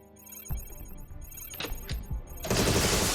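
Gunfire in the retro spy shooter Agent 64: Spies Never Die, a few sharp separate shots followed by a loud sustained burst near the end over a faint music bed.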